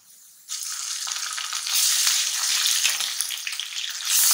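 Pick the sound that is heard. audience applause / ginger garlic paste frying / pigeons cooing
ginger garlic paste frying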